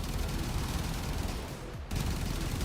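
Dual Decurion guns in Warframe firing nonstop in a rapid, loud automatic stream, with a brief gap near the end before the barrage resumes.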